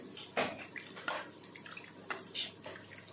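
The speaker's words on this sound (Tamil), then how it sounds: "தண்ணி விட்டு கலந்து கட்டி போடாமல் கலந்துக்கணும்." Soft splashing and dripping of water into sago batter for puri, with light scraping and stirring noises, close by and fairly quiet.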